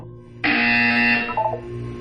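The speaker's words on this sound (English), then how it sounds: "When you hear the buzzer, look down at the floor." In the video game Portal 2, a loud electronic buzzer sounds once for about a second with a harsh, steady tone, then gives a short stuttering tail before it fades into quiet room tone.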